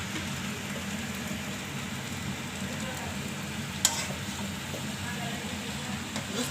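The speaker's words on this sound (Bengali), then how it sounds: "টমেটোগুলো দেওয়া হয়ে গেছে, এখানে ভালো করে নাড়াচাড়া দেওয়া হবে।" Green tomatoes frying in a pan make a steady, soft sizzle with a single sharp clink of the utensil partway through, and no voice over it.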